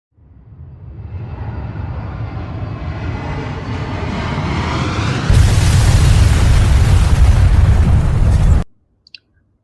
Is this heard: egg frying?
no